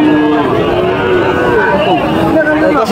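Sahiwal cow lows in a long, loud, close moo at a busy cattle market, with crowd chatter faintly underneath.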